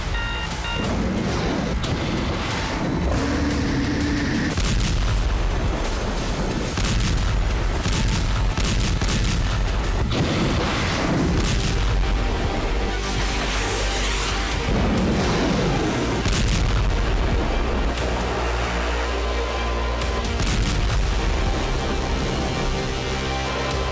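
A military missile launch followed by loud explosions: repeated booming blasts and rumbling bursts fill the whole stretch, dense and continuous, with no talk over them.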